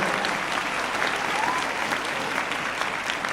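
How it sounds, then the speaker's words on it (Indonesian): A crowd applauds steadily for a few seconds at a corporate anniversary celebration after a CEO's speech, a dense, even wash of clapping. "Aplaus untuk Anda semuanya"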